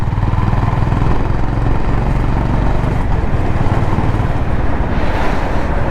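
A Honda H'ness CB 350 single-cylinder motorcycle engine runs close by, giving a loud, steady thumping drone with a dense low rumble that holds throughout without speech.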